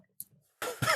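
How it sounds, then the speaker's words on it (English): A single close, loud human cough in a podcast recording, a short burst preceded by a brief intake of breath, with no other sound around it. "you just got my cough in the air"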